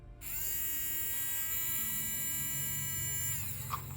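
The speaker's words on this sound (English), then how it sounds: "we're gonna put some leads to the motor. We're gonna listen to its RPM" A small electric motor for an Adventure Force Monolith 4S blaster spins up on battery leads, a loud steady high-pitched whine that holds for several seconds and then drops slightly in pitch as it runs.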